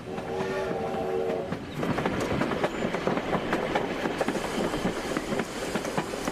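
A train approaching with a rumbling, clattering build-up of wheels and carriages, loud and close; a sustained trumpet-like tonal note sounds at the start, played by travelling trumpeters aboard.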